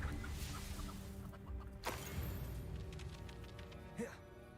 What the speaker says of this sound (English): Damn chicken.